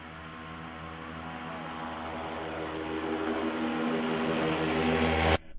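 A paramotor engine runs at full throttle, its loud, steady propeller drone building slightly in intensity before cutting off abruptly near the end.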